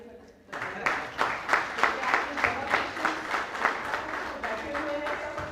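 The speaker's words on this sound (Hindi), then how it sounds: "आप सबसे पहले सभी अपने लिए जोरदार तालियां बजाएं।" After a Rajasthani theatre play, Vijaydan Detha's "Uljhan", an audience breaks into rhythmic, cheering applause that starts suddenly and holds a strong, steady clapping beat, with voices mixed in.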